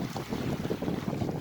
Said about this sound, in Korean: 파도가 찰싹찰싹 하고 있죠.